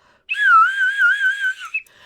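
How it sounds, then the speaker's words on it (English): A single loud whistle blast held for about a second and a half, its pitch wavering slightly before cutting off. "Blow my whistle."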